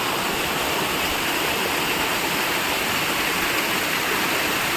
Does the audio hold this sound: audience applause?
no